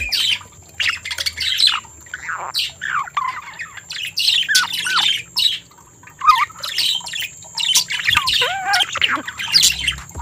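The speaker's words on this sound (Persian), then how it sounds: "پرنده های ماده وقتی آماده جفتگیری میشن خیلی زود رنج و عصبی میشن و همش جیغ میزنن" Female budgerigar screaming in repeated harsh, piercing squawks and chirps, close and loud, continuing nearly without pause over a faint watery background.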